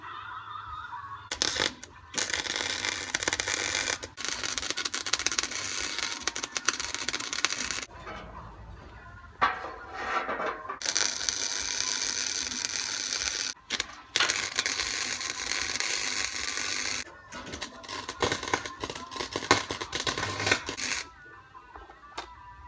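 Tack welding of steel star pickets onto a fire pit cooker frame, with bursts of harsh crackling arc noise broken by short pauses between tacks, close and loud with no talking.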